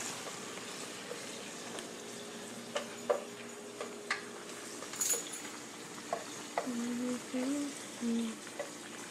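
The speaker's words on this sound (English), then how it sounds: "So once these get sauteed up real good and soften up" Vegetables sauté in a pan for homemade gravy, giving a soft, steady sizzle broken by occasional light clicks and stirring taps from a spoon.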